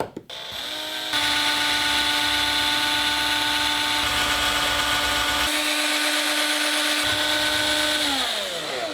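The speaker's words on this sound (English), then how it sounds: "cut off the end of this carrot and then drill a hole in it" A power drill whines steadily at high speed for several seconds while drilling a hole into a carrot, close and loud, with a brief dip in pitch partway through before spinning down.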